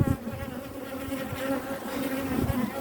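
Honey bees buzz steadily around an opened hive, a dense, continuous hum that swells slightly and carries a faint higher whine, close and fairly loud with no voices over it.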